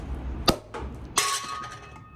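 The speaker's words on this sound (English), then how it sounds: "Oops, nearly broke the glass. Maybe should have hung on to the cork." Piper-Heidsieck champagne bottle being opened, with a sharp clink as the cork nearly breaks a glass, then a second glassy crash and ringing, close and fairly loud with no talk.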